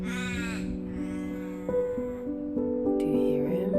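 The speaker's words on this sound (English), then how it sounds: "Do we have ravens or crows?" A crow caws repeatedly in loud, harsh, drawn-out calls close by, each call strained and nasal, with no talking around it.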